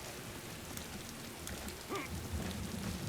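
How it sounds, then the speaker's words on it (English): Steady rainfall on a swampy map in the video game Vermintide, a soft continuous patter with a few brief louder drops, fairly quiet with no voices. "This map is pretty dour in the rain"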